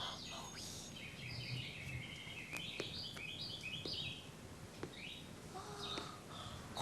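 A bird sings in a pine tree in a fairy-tale film scene, with high, quick chirps and warbling phrases at a moderate distance over a quiet background, and no talk.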